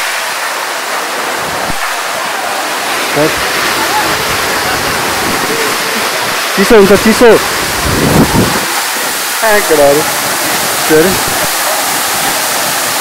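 The Fung Fung waterfall at Ranipauwa in Nuwakot sends up a constant, loud, rushing roar close by, while several people talk over it.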